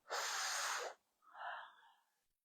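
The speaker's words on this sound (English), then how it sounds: "breathing through your mouth 3 times and through nose 3 times" Two close breaths in a breathing exercise: a loud, rushing exhale through the mouth, then a softer, shorter breath through the nose, with quiet between them.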